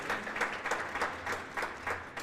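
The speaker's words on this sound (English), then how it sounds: "Definitely deserves an applaud." Audience applause at a university college naming ceremony, a soft, sustained round of clapping from a gathered crowd, even in level with slight rhythmic swells and no voices over it.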